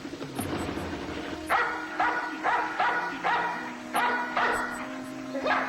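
A police dog at a burglary scene barks repeatedly and loudly at a suspect in a steady series of sharp barks, fairly close, with faint background noise.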